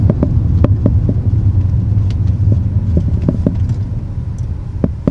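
A BMW 335i tuned with a JB4 rumbles through a launch, its deep engine drone steady and loud, with faint clicks and ticks over it and no speech.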